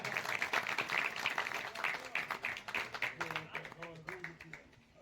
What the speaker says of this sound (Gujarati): તાળીઓથી વધાવીએ ભાઈ